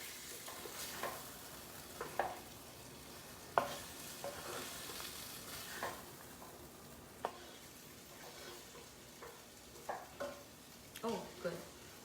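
Sri Lankan eggplant curry stirred in a pan, quiet sizzling broken by a series of scraping and clinking spoon strokes at irregular intervals, close and soft.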